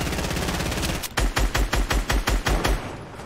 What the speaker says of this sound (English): Somebody's shooting from somewhere.